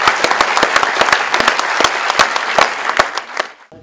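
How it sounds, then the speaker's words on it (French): An audience in a cinema hall at a film premiere breaks into loud, sustained applause with sharp individual claps throughout, fading out at the end. "Et on peut l'applaudir."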